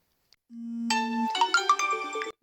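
A phone ringtone for an incoming call opens with a single low sustained tone, then breaks into a bright, loud melodic jingle of several notes before cutting off abruptly.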